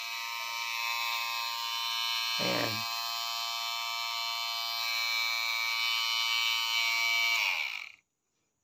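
A DIY heavy-duty trimmer and clipper motor runs continuously with a loud, steady, high-pitched electric buzz for about eight seconds, then cuts off abruptly. A short spoken word is heard over it.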